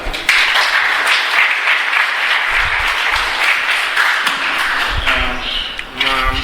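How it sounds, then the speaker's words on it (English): Audience applause at a student communication-skills development session in Hyderabad, with dense clapping that continues steadily for several seconds. A voice begins speaking faintly as the applause fades near the end. "Give him a clap."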